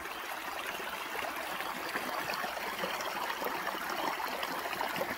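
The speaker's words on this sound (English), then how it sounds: "to get the sound of the water, it's got to go over obstacles to make the sound." Water rushing steadily over rocks and obstacles in a stream, a continuous dense babbling wash that holds close and even throughout with no voices.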